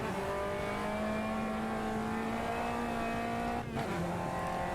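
A race car in Automobilista 2 driving and sliding, a steady loud engine drone with tonal whine holding pitch, briefly dipping and shifting near the end as the car slides.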